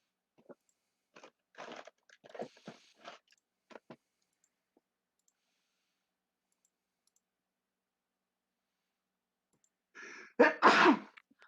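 At a tabletop role-playing game session, a single loud, close sneeze bursts out near the end, after a stretch of faint clicks and small mouth noises and a long quiet pause.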